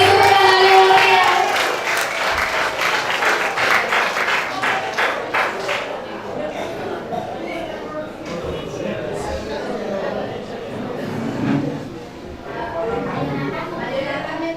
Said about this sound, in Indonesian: Kita beri tepuk tangan yang meriah.